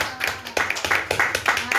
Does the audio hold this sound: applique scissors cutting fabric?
no